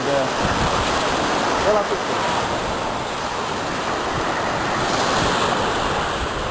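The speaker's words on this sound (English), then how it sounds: "I'm here with all that seashore, Black Sea coast" Waves wash continuously along the Black Sea shoreline, a steady broadband roar of surf with wind noise on the microphone, rising and falling slightly throughout.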